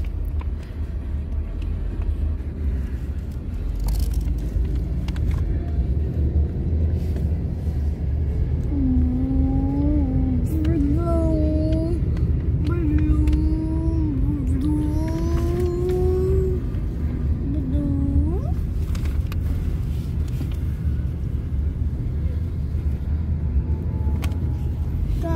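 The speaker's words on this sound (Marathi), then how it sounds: "रस्त्याला ट्रॅफिक बघा काय येते." Night road traffic passes near a Dubai roadside: a steady low rumble of engines with a car accelerating and whining through the middle, continuous and fairly close, with no clear talk.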